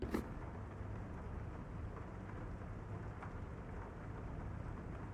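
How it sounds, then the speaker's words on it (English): Rain from the video game Rain Code, a soft, continuous hiss of falling rain with a low rumble underneath, steady and distant, with no other sounds standing out. "Rain sounds."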